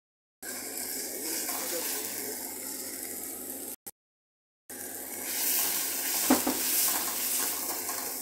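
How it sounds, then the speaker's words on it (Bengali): Onion and garlic fry in hot oil in a wok, giving a steady, close sizzle that cuts out briefly near the middle and then returns, with faint utensil clinks. "আমার পেঁয়াজ রসুন ভাজা হয়ে গেছে।"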